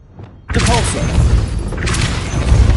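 Depulso spell cast in a Harry Potter video game: a soft swish, then a loud booming blast that rumbles on with crashing debris and a second surge, close and heavy.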